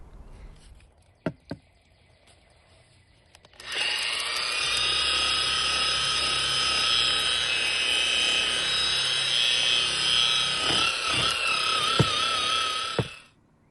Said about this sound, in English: I'm going to use aluminum oxide polish on a wool pad